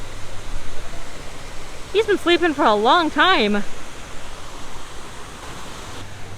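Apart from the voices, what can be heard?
artificial waterfall at Rainforest Cafe, Disney Springs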